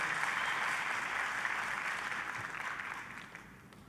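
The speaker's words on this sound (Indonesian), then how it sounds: "kita kasih tepuk tangan yang meriah buat Tuhan kita" Applause from a church congregation during a sermon, a dense, steady wash of many hands clapping that holds loud and then slowly tapers off.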